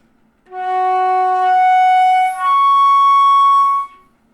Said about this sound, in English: I'm going to slur up to the second octave from the first.